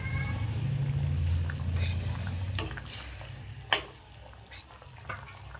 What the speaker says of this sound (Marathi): भाजीला बघा आपला छानपैकी असं उकळा आलेला आहे